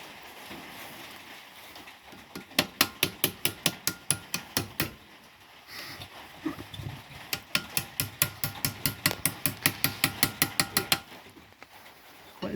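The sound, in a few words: hammer tapping Ford Escort body panel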